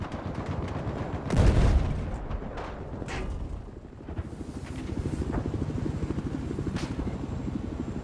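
A helicopter in a military video game spins and explodes, with a sudden loud blast early on followed by rotor chop and scattered gunfire, dense battle noise continuing underneath.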